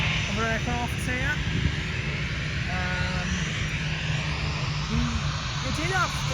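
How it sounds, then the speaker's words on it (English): An airliner at Manchester Airport runway visitor park produces a steady engine roar beneath a person talking, with bird chirps scattered on top. "And here comes one of the other aircraft here."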